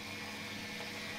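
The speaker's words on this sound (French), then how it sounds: "la pompe s'est déclenchée parce que le flotteur était suffisamment haut" A sump pump switched on by its rising float, pumping rainwater, as a steady close hum and rushing whir without pauses.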